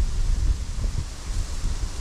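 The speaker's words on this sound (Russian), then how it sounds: "Вон ветер поднялся, сам обещали где-то 8-10 метров в секунду, он, он так и лупит." Strong wind of about 8-10 metres per second buffets the microphone on the Dniester river bank while fishing, a low, gusty roar and rustling, continuous and loud throughout with no voices.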